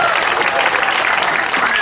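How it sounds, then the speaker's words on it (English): Outdoor crowd applause at an elementary school's grand reopening ceremony on a hot day, many hands clapping in a dense, steady, fairly loud wash with faint voices mixed underneath. "How about a round of applause?"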